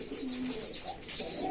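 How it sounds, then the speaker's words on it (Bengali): Pigeons coo repeatedly on a crowded pigeon farm, soft throaty calls rising and falling close by in a steady murmur, with no one talking. "দেখেন আমার কবুতর খামারে এখন অনেক কবুতর"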